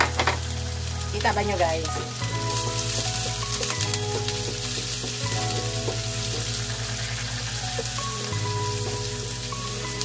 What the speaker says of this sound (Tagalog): Lutuin muna natin ang ating bawang at ang ating sibuyas.